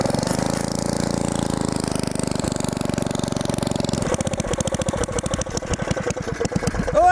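A small petrol engine runs with the choke on, a steady, close, buzzing drone that turns into a rougher, pulsing rhythm partway through.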